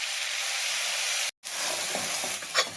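Masala fries in hot oil in a kadhai for egg biryani gravy, giving a close, continuous sizzle with stirring scrapes and one brief cutoff midway.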